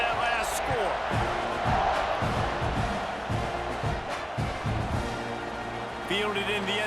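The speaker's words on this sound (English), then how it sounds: "this crowd is buzzing after that last score." Stadium crowd in the College Football 26 video game, a dense, steady roar and murmur filling the background under a play-by-play commentator's voice throughout.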